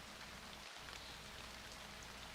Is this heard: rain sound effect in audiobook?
yes